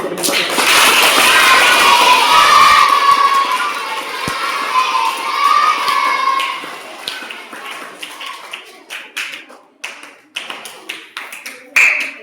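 A crowd applauding for a birthday: loud, dense clapping that fades into scattered individual claps and taps toward the end.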